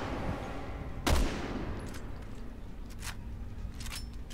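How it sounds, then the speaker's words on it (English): Gunfire in the Resident Evil 6 video game: one sharp, loud shot burst with a decaying tail, followed by a few fainter distant cracks over steady in-game background ambience, with no talking. "Don't worry, I'm shooting him."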